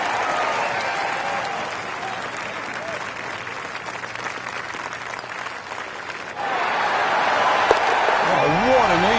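A crowd in a PGA Tour golf video game cheers and applauds steadily after an eagle, swelling louder near the end while a commentator talks over it.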